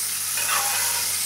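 A bone-in côte de bœuf sizzles loudly in a pan while being basted with garlic and butter, a steady dense frying hiss with a brief swell of spattering, close and continuous.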